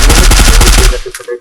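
Rapid bursts of automatic gunfire in a shooting video game, loud and continuous for about a second, then breaking off into a few scattered fainter impacts.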